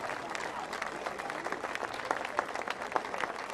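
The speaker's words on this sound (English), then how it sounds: "Once again, nice round of applause for all 3 honorees." A crowd at an outdoor beach sand sculpting awards ceremony claps for honorees, a steady patter of applause from many hands, moderately distant, with a few sharper individual claps standing out.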